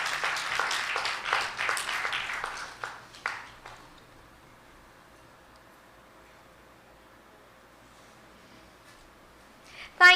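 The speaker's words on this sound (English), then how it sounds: "y'all could go ahead and give a round of applause" An audience at a Divali service and cultural programme claps in a brief round of applause that fades out after a few seconds, followed by near silence and a sudden noise at the end.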